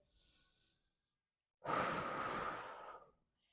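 Deep breathing during a full-body stretching class: a soft inhale, a pause, then a long, loud, close exhale with a breathy rush, heard alone without talk.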